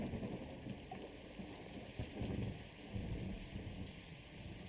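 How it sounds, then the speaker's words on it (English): Steady rain hisses across the whole scene while low thunder rolls and rumbles in several swells, a continuous stormy backdrop with no voices. "immediately you feel the pitter patter of rain once again."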